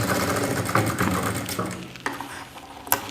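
A sewing machine runs steadily, double-stitching the cup of a saree blouse, its motor whirring loud and close with a brief slowdown near the end.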